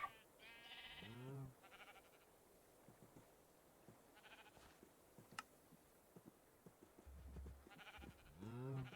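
Sheep bleating in the video game Minecraft, played in the FTB OceanBlock modpack. Two or three wavering bleats, one near the start and one at the end, with a quieter bleat in between over faint ambient game noise.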